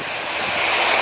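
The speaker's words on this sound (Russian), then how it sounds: "Еще один заходит." Another airliner on approach to land over Mai Khao Beach, Thailand, gives a steady, loud engine roar that swells slightly as it draws nearer.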